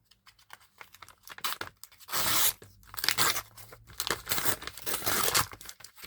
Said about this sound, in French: On va mettre un petit peu de ciseaux.